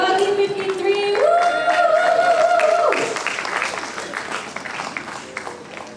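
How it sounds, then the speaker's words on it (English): An audience at an endurance racing event applauds a racing team, a broad wash of clapping and crowd noise that carries on beneath a loud sustained whoop and cheer from a voice, then thins out. "let's give a round of applause again"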